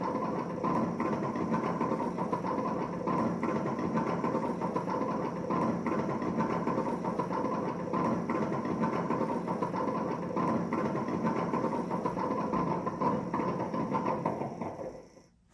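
Simulated truck engine from a sound module on a WPL E1 RC truck, a steady droning idle with a knocking, mechanical texture, continuous and fairly loud before cutting off abruptly at the end.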